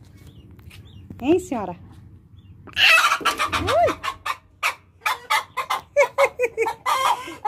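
Hens cluck beside a hen's nest with eggs in Ipirá, a rapid, uneven series of close, sharp calls, with a person briefly speaking between them.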